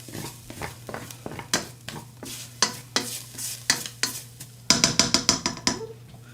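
Ground meat crumbles scraped and spread around a hot skillet for skillet spaghetti, a close series of sharp stirring and scraping strokes over a light sizzle, growing quicker and busier toward the end, with no talking.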